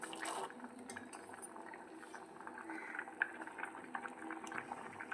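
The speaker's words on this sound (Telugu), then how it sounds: "అవి ఉడుకుతున్నాయి." Chickpeas simmer in a pot of water, giving a faint, continuous bubbling with small pops scattered throughout and no talk over it.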